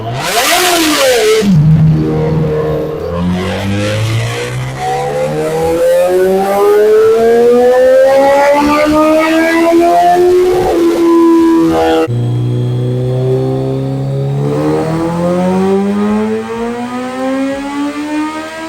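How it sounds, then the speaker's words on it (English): A Kawasaki ZX14R motorcycle with a Brock exhaust runs on a dyno, screaming loud as its revs climb in long rising sweeps, then shifting and climbing again in a second sustained pull. "We're gonna make some dyno pulls."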